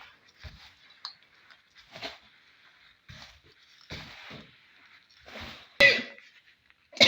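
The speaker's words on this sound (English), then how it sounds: "This is where you can see me coughing." A person coughing while mixing SLS powder for homemade powdered detergent: scattered short coughs and throat sounds at irregular intervals, close to the microphone in a quiet room, with one sharp louder burst near the end.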